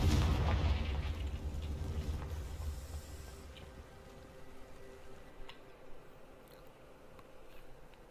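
Confringo fire spell from Hogwarts Legacy bursting into dry vines, heard as a loud fiery blast with a deep rumbling roar that fades over several seconds into a low crackling tail.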